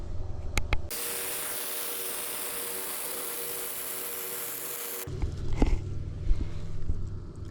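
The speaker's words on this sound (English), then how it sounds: "This welder's ripping pretty hard." A welder lays a practice bead on metal with the machine set hot: a steady, loud crackling hiss lasts about four seconds, framed by softer workshop clatter and knocks before and after.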